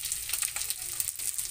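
Fish reheating in a frying pan sizzles steadily, a close, crackling hiss with small irregular pops throughout.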